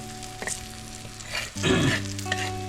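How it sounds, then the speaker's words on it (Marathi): Fish fries in a hot pan with a soft sizzle that swells into a louder, denser hiss about halfway through, along with a few light handling knocks and a steady tonal hum in the background. "आणि इकडे आपली मच्छी फ्राय होते फ्राय"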